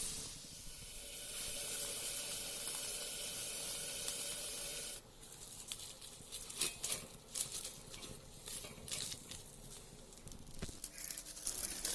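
A fish parcel wrapped in leaf roasting over heat gives a steady close hiss for about five seconds, then turns quieter with scattered crackles and sharp pops.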